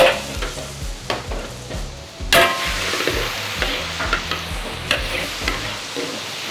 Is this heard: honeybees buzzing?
no